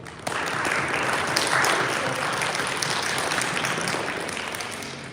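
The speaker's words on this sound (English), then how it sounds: "can we all just clap for Coach Abbas real quick, please?" A crowd in a mosque claps steadily and enthusiastically for several seconds at a winter sports camp award ceremony, a dense wash of applause that stays loud throughout before easing slightly at the end.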